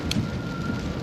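Rain falls steadily in a brief dense wash of patter, with a low rumble underneath and a faint steady tone, no voices.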